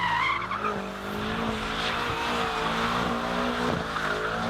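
A BMW M5's tires squeal while drifting, a loud wavering screech with engine revving underneath, rising and falling over several seconds.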